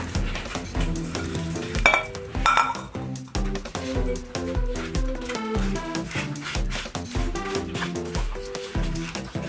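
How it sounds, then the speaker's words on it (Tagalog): A sardine ball mixture with malunggay leaves is worked by hand or spoon in a bowl, giving dense, continuous squelching and clinking strokes in a steady rhythm, close and fairly loud, with no talking. "Mix po natin yung ating sardines."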